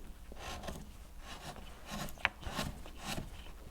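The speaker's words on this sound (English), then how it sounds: "I'm just kind of slicing it rather than pushing it" A sharp carving tool slicing wood in a skew cut while making small wooden magnets, a series of soft rasping scrapes in an uneven rhythm with one sharper tick, close and quiet, no talk.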